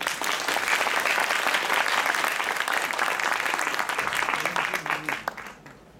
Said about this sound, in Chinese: 我们一起掌声欢迎他。